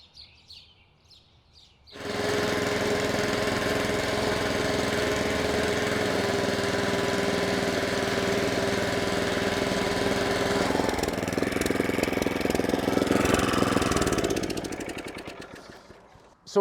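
A lawn mower cutting thick weedy grass starts up after two seconds and runs loud and steady near the listener, then fades out at the end, with birds chirping faintly in the background.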